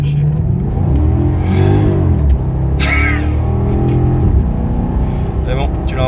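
A Maserati GranTurismo pulls out to pass a truck, its engine revving up in a rising climb heard from inside the car, with people talking loudly over the sound.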